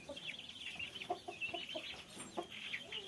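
Faint, scattered clucks from a three-kilogram village hen, soft and somewhat distant, over a hissy background.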